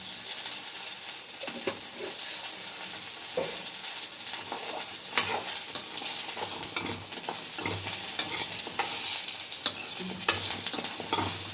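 Pirandai and pepper sauté in sesame oil, with a steady close-up sizzle under repeated scraping and stirring taps from a spoon against the pan.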